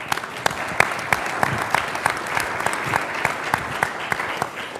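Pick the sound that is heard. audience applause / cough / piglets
audience applause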